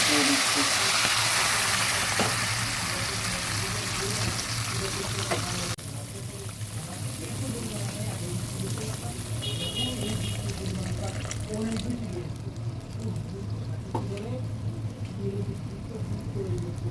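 Boiled water pours into a pan of frying potatoes, a loud rushing gush at first that settles into steady bubbling sizzle, with a brief thin tone midway.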